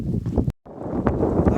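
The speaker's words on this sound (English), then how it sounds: "the wind's blowing more than ever" Wind gusting across a high mountain ridge on the Appalachian Trail, a steady rushing roar against the microphone, broken by a short dropout and then resuming at full strength.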